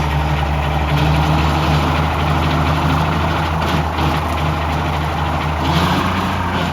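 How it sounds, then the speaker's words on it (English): A 6 ft Catawba rotary cutter with a stump jumper blade runs behind a tractor, its chain and driveline giving a steady low mechanical hum under the engine drone, constant and fairly loud throughout. "And of course, the noise you hear is the chain."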